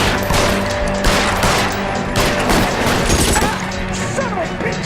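Loud, close gunfire in a shootout in the crime game L.A. Noire, with dense overlapping volleys and sharp cracks rattling almost nonstop.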